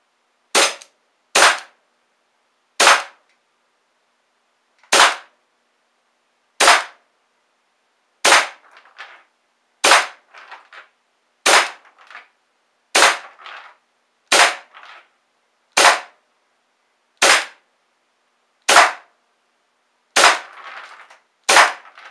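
A WE MEU airsoft gas blowback pistol fires twelve single shots in an uneven rhythm, each a sharp, loud, close crack with a short mechanical clatter, separated by silence.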